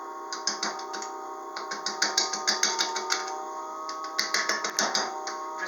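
Wood lathe rough-turning a badly out-of-round silver maple bowl blank with a bowl gouge, a steady motor hum under a rapid, rhythmic ticking chatter as the tool bounces on the uneven wood.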